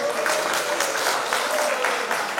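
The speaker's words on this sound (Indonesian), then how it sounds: "Kita berikan tepuk tangan kepada ketua penjara." A crowd claps steadily and fairly loudly, a dense wash of hand claps filling the whole stretch without pause.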